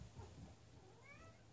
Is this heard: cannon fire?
no